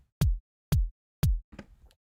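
FL Studio drum pattern with hi-hats layered on the kick drums: three evenly spaced punchy kick hits with crisp tops, followed by a short scattered tail of softer percussive hits, no talk.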